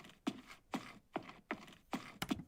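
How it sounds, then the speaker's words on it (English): Footsteps on stone, a surface-material sound effect: five hard, evenly paced heel strikes with sharp attacks and short decay, fairly quiet and alone. "Here's stone, footsteps on stone."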